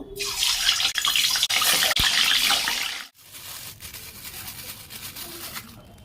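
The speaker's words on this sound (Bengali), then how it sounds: "এগুলো ভালো করে ধুয়ে নেব গোবিন্দভোগ চালের সঙ্গে" Gobindobhog rice being washed under a loud, steady gush of tap water that stops briefly, then continues as a quieter trickle and splash.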